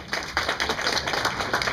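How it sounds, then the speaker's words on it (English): An audience at a Cinema Wasteland 2011 Q&A with Ruggero Deodato claps steadily throughout, dense and fairly close applause with no talk. "Yes, you're allowed to clap."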